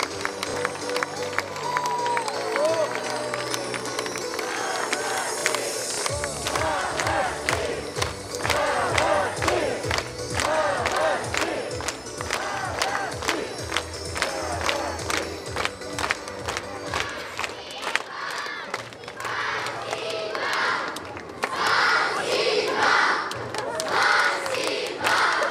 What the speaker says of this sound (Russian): Эти дети заслуживают ваших аплодисментов.